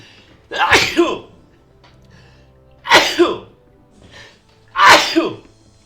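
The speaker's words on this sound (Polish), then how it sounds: "O matko, dawno nie było kichania na odcinku" Three loud, close sneezes burst out one after another, spaced a couple of seconds apart, with a faint vocal noise between the second and third.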